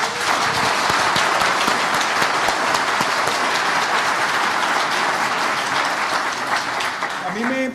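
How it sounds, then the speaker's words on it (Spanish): An audience at a democracy and innovation forum panel breaks into loud, sustained applause, dense clapping holding steady throughout, with a faint voice just audible near the end. "se merece siempre un gran aplauso por eso"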